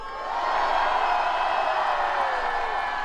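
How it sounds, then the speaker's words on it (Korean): A large rally crowd opposing President Yoon's impeachment in Yeouido shouts and cheers together, a sustained roar that swells in after a moment and holds loud, with a voice calling over it. "윤석열 대통령님, 또 우리의 함성이 들리십니까?"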